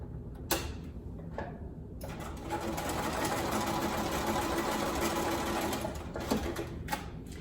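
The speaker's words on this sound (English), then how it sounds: "So we're just gonna sew right along that edge." A sewing machine stitches along the edge of patchwork pumpkin quilt block fabric, a steady, close mechanical whir with a few brief stops and starts and no talk.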